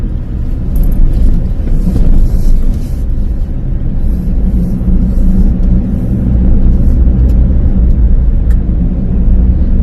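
A Mitsubishi Triton pickup in two-wheel drive cruises at a steady 40 km/h along a curving road, heard from the cabin as a continuous low road rumble and engine drone with no voices.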